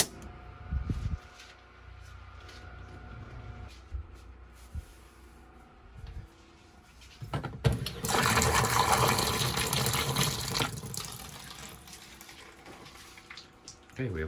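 Water rushes from a tap or pipe as a household well pump, powered during a blackout, kicks on, with bumps and handling noises first, then a loud steady gush of flowing water that slowly eases off.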